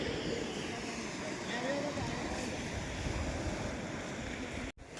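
Sea waves wash onto a beach during a pre-wedding photo shoot: a continuous roaring surf mixed with wind buffeting the microphone, steady throughout and cutting off abruptly near the end.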